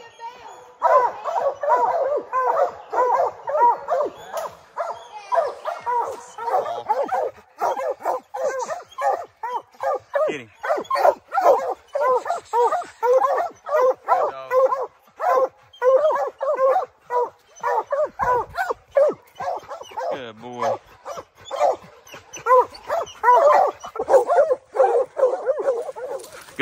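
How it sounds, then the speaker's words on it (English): A pack of hunting hounds barks and bays nonstop at a treed bear, dense overlapping excited barks and yips, fairly close, continuing for the whole stretch. "Tess TREED over here with this pack, so, and we can see the bear"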